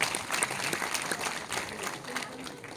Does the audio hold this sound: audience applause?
yes